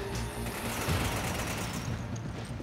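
Steady automatic gunfire from an AI partner in the Resident Evil 5 video game, a continuous dense rattle of rapid shots at even loudness throughout, with no talking over it.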